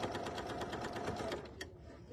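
A serger sewing machine stitching and trimming quilt fabric runs in a fast, even mechanical whir with rapid needle ticking, close and steady, stopping near the end.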